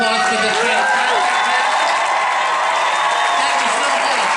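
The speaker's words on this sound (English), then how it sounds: "how about one more big round of applause for this fantastic" A theatre audience at the El Capitan Theatre keeps up loud, dense applause mixed with crowd noise and some cheering, filling the whole stretch without a break.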